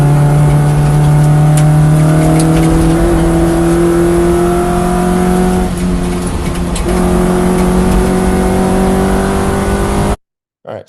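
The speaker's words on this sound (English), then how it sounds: "here in turn 3, you can hear that as you enter the corner, you kind of snap off the throttle and then get back on again before the apex" A race car engine on a track drones loud and close, briefly easing off the throttle entering turn 3 then pulling again, with the tone dipping and recovering before cutting off abruptly.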